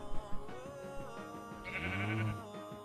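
A sheep in the video game Minecraft bleats with a drawn-out wavering cry over soft background music, preceded by a few short clicks.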